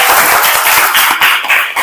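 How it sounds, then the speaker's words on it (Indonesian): Children in a classroom clap and applaud together, a loud, close, dense burst of many hands patting rapidly for the whole stretch. "Kasih aplaus dan tepuk tangan dulu anak-anak"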